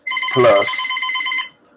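A phone ringing close by with a steady, bright electronic ringtone lasting over a second, heard under a man's speech.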